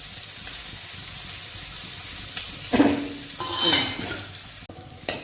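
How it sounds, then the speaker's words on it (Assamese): Onions fry in a pan for a pressure-cooker chicken or mutton biryani, giving off a continuous sizzle that swells as they are stirred, with brief scraping and clinking of a utensil near the end. "ইয়াত প্ৰথম আমি কি কৰিম, পিঁয়াজখিনি ভাজি ল'ম।"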